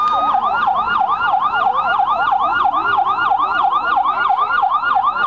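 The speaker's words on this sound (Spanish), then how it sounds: "Ahí llega la ambulancia a asistir al piloto" An ambulance siren wails loud and close at a Fiat 600 Standard race, its rising and falling tone repeating rapidly and steadily throughout with no gaps.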